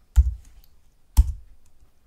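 Two distinct keystrokes on a computer keyboard, about a second apart, each give a close clack with a soft low thud. The surroundings are otherwise quiet.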